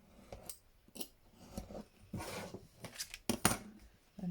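Scissors snip paper in a handful of sharp, close cuts spaced irregularly for a crafting project, quiet between strokes and without speech.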